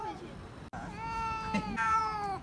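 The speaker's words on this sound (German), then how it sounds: "denn es gibt gleich viel Katzengeschrei." Two cats screeching and yowling at each other, one rowdy and one calm, in drawn-out wavering cries, fairly close, with a voice speaking underneath.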